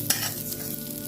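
Gobindabhog rice frying and stirred in ghee in a pan, a brief scrape followed by a soft, steady close-up sizzle.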